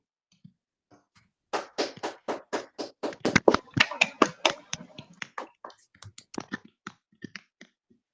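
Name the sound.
audience applause after a talk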